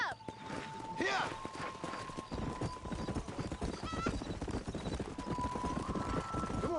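A horse in Red Dead Redemption gallops with rapid, close clip-clop hoofbeats and neighs once or twice, while a voice talks over the ride.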